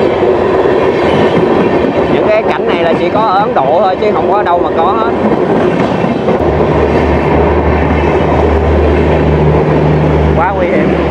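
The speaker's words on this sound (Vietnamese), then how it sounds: "Mình đứng sát xe lửa chỉ có vài cm thôi, mà người ta sống ngay cái chỗ xe lửa nè" Train passing close by in a slum in New Delhi, India, a loud steady rumble with clickety-clack from the rail wagons running through the whole clip, while someone talks over it in the foreground.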